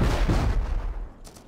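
Gunfire in the survival game Rust during a German let's play of a Chinook helicopter crate fight: a dense, loud volley of booming shots that thins out and fades over about a second and a half.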